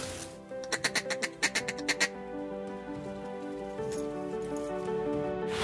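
A rapid string of about nine quacks in a burst, followed by softer tonal sounds; a vintage Perdew duck call imitating a hen mallard.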